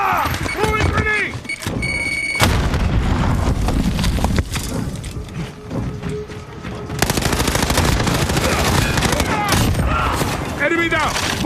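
Gunfire and a grenade blast in the PC game Call of Duty Modern Warfare: rapid bursts of automatic fire, sharp shots and a heavy explosion mixed with game voices and effects, loud and dense throughout.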